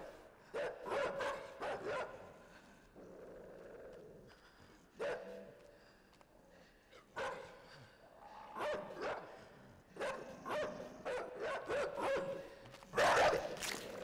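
A dog in the game Inside barks in short bursts and yips, with pauses between clusters and a higher whimpering yelp near the end, heard at moderate distance.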